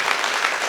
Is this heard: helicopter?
no